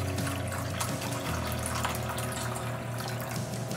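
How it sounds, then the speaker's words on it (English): Hot water runs from a kettle or jug into a baking pan to make a water bath for a caramel flan, a steady close pour with a low hum beneath it and no talking. "And we're going to pour some hot water in."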